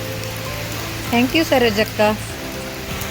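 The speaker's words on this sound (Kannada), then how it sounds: "ಮಳೆ ಬರ್ತಾ ಇದೆ, ಹಾಗಾಗಿ ಸ್ವಲ್ಪ ಮಳೆ ನೀರಿಗೆ ಇಟ್ಟಿದ್ದೇನೆ" Steady rain falls around a garden where newly brought plants have been set out to catch the rainwater, a continuous soft patter beneath a brief burst of speech midway.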